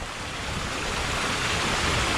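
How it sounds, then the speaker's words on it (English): Flooded Lumb Falls on Crimsworth Dean Beck near Hebden Bridge, Yorkshire, pouring as a dense, steady roar of rushing water that fills the whole clip and builds slightly louder toward the end, with no voices. "It's got a waterfall which is called Lumb"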